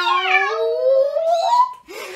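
A person imitates a cat with a long, rising, drawn-out meow, followed by a short second mew.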